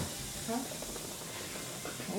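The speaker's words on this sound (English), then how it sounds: "See, I already had to put two times in there to make it fizz." A cup-sized science experiment fizzes with a steady, soft hiss that runs throughout, while a voice chatters briefly over it near the start and end.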